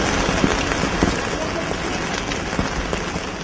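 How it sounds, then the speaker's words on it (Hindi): Steady morning rain falls in Srinagar, a broad continuous hiss with scattered sharper patters and drops throughout, fairly loud and close. "श्रीनगर में सुबह की इस बारिश में विकास चौबे के बच्चे ठंड से कांप रहे हैं।"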